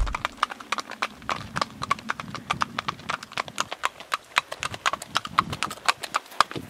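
Hooves clip-clop steadily on a hard road as pack horses walk on a long-distance ride in Ireland, a brisk, close series of sharp knocks with faint background noise.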